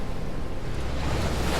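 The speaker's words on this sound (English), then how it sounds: "you can hear the rushing sound of water" A brief, unbroken roar of rushing water, loud and close, with a heavy surge of surf behind it.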